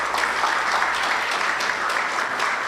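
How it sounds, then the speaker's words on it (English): A large audience claps steadily at a school cricket league prize-giving and award ceremony, a dense even wash of applause filling the whole moment. "a resounding round of applause"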